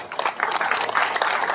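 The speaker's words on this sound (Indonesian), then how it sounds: "Tepuk tangan dulu." Audience applause at an Indonesian religious lecture about the Muhammadiyah organisation, a dense crowd clapping steadily and fairly loudly throughout with no voices over it.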